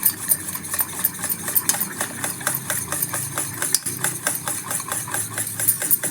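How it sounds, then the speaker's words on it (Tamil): Ragi milk porridge is stirred steadily in a pan, giving a repeated scraping, slapping rhythm of spoon against thick, sticky mixture, close and moderately loud with a faint background hum and no talk. "இப்படியே கிண்டிக்கிட்டே இருங்க நல்லா சைனிங்காக குழக்குழன்னு வந்துடும்"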